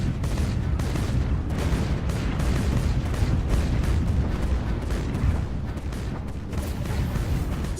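Missile fire in a Stellaris space battle plays out as a steady, dense roar of booming blasts, with overlapping low rumbles and rapid bursts that keep a constant loud wash for the whole stretch.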